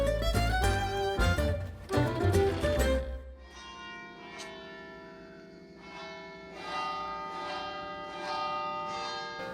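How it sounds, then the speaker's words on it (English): Church bells peal loudly in overlapping clangs, then stop, leaving long ringing tones that fade and swell as a few lighter strikes sound nearby, at a house in Italy. "the bells are just about to finish"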